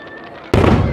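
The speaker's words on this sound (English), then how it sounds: "the fireworks have started" Fireworks burst at Lake Kawaguchiko near Mt. Fuji, one loud, sudden broadband boom cutting in midway after a quiet stretch of faint ambient hum.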